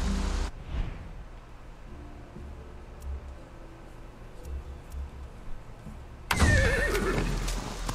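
A horse in the video game Far Cry 6 gives a loud, shrill whinny near the end, after quiet rustling and faint hoof noise, with a brief burst of noise at the start.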